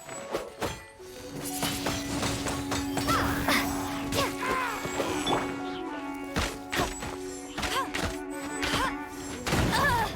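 Shots and attacks in the action game Genshin Impact, a series of sharp thumping impacts scattered over a steady tonal hum of game music and effects, with a voice faintly present at times.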